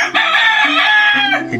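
A rooster crows loudly and close up, one long drawn-out cock-a-doodle-doo lasting over a second.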